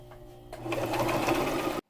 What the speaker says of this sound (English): we're just going to do a straight stitch down and try to remember to pull our pins out as we go